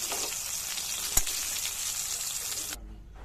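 Pieces of katla fish fry in hot oil with a loud, continuous crackling sizzle, broken by one sharp tap partway through, before the sizzle abruptly cuts off near the end.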